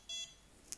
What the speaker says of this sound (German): Jetzt habe ich dreimal Piepston